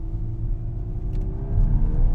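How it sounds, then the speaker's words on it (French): Steady low road rumble and tyre roll inside a Volkswagen Golf 8 R driving on a rough road with large wheels, a continuous drone that swells louder toward the end, with no talking. "Il y a des bruits de roulement, hein, vu la taille des gommards, c'est pas étonnant"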